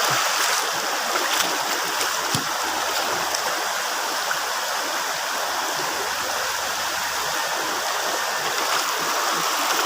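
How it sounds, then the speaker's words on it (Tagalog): A river stream flows steadily past large rocks in a Philippine outdoor setting, a constant broadband rush of water that stays close and loud throughout with no voices. "Yung ilog, kawawa yung ilog natin guys."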